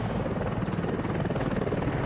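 Mi-24 attack helicopter in flight, a loud, continuous rotor thrum and engine roar that fills the whole short moment with no talk.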